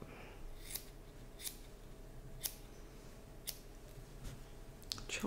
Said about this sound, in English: I'm just going to take my scissors and I'm just going to chop